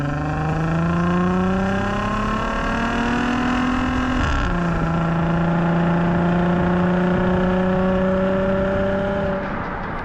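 Deep, steady exhaust growl from a VR6 Atlas with a B2B Fab Wookiepipe exhaust accelerating, pitch climbing, dropping briefly at a DSG gear shift, then rising again; loud and close with no voices.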